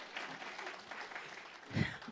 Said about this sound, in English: please clap for Heide